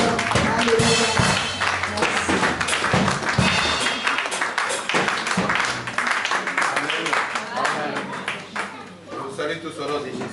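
A church congregation applauds and cheers to welcome a man of God to the pulpit, a loud, dense, sustained wash of clapping mixed with shouting voices.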